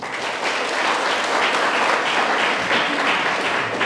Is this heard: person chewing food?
no